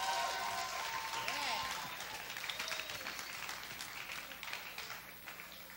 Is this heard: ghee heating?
no